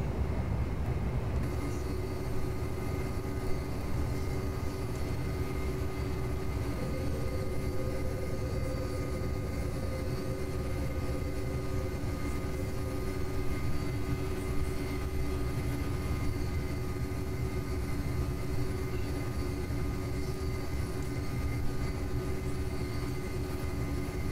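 Twin jet engines of a Boeing 737 in FSX roar steadily through a takeoff roll and climb, a continuous dense rumble with sustained whine tones, loud and unbroken throughout.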